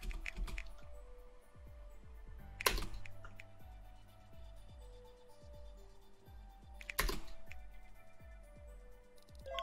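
Computer keyboard keys clicking during a Pummel Party game session, a faint, steady stream of light rapid taps alongside game music and tones, with two brief louder hits and no talk.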